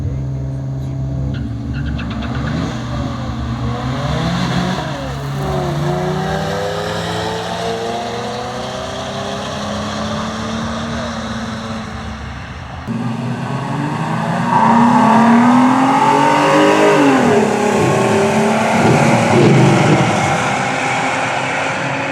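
Cars racing down a dragstrip in a second race, their engines roaring loud and continuous, with a surge of louder revving and rising engine tones toward the end.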